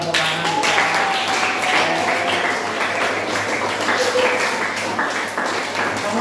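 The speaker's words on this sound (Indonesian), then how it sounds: "Tepuk tangan." Classroom applause from students after a lesson, steady dense clapping throughout with some voices mixed in.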